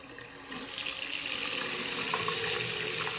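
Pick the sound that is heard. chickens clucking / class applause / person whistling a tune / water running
water running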